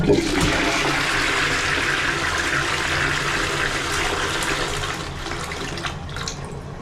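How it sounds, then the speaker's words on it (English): A wall-mounted stone resin toilet flushes loudly and close, a strong rushing surge of water that gradually eases off, with no talk. "Full and half flush."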